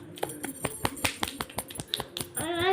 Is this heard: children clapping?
yes